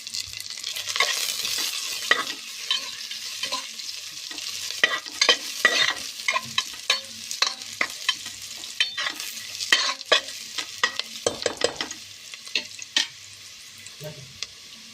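Sliced onions frying in a pan with cinnamon and cloves for ghee rice, a close, crackly sizzle broken by frequent scraping and clattering stirs of a spatula, without speech.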